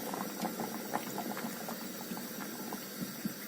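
Egg-lemon sauce being stirred into simmering Turkish meatball soup in a pot, with a steady bubbling, boiling liquid and small soft pops throughout, fairly quiet and without talk.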